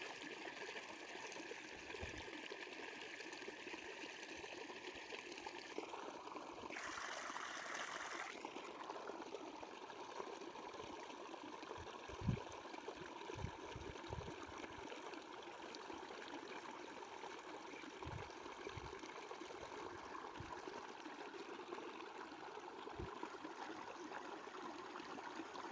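Water pours steadily from an electric motor pump into a small well, a continuous rushing stream with a brief louder surge midway, alongside faint low thumps.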